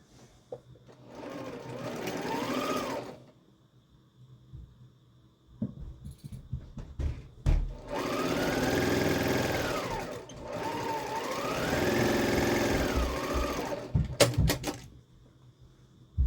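A sewing machine stitches quilt blocks in several bursts of steady whirring, with short pauses between them. Faint handling clicks fill the gaps, and a burst near the end is brief.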